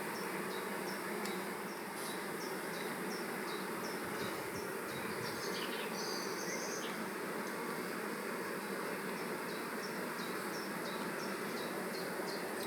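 Honey bees running over a hive comb frame during a queen-rearing hive inspection, a constant close buzzing hum with faint fluttering wingbeats and no voices.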